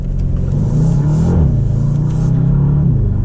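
A Bentley Continental GT V8 Convertible accelerating, its engine giving a steady, loud low rumble that rises slightly in pitch as it pulls, heard from inside the car.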